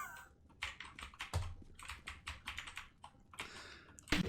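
Someone types on a Lidl computer keyboard in quick, irregular bursts of close, crisp key clicks, with a few louder strikes and no talking.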